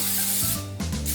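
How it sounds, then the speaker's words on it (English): A short, steady hiss of baking spray from an aerosol can misting into a 9 by 13 glass baking pan, close and continuous with a brief dip partway through. "So I'm just going to prepare this one just by putting some baking spray"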